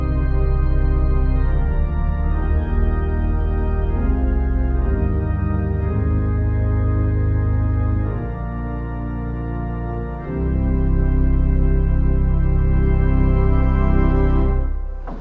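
A 2009 Quimby electro-pneumatic pipe organ in a church, two ranks of strings over a flute with super and sub couplers and octave extension, holds full sustained chords that shift slowly, loud and resonant, with no talking.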